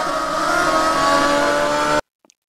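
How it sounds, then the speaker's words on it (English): A loud NASCAR race car engine in Minecraft Bedrock Edition revs hard and steady for about two seconds, then cuts off abruptly into near silence. "And of course, you can ride these. They are very loud."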